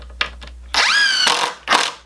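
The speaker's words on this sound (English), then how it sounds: "I'm going to add 2 screws into each side." A cordless drill drives screws into 2x4 ladder steps, its motor whining up in pitch through a long burst after a few short pulses, then another brief run, loud and close.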